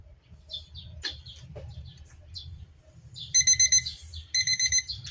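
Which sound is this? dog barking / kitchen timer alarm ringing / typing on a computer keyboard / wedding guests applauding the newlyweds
kitchen timer alarm ringing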